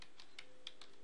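Typing on a computer keyboard while entering a command in Windows, about five light key clicks spread unevenly across a moment, quiet and close with no talking.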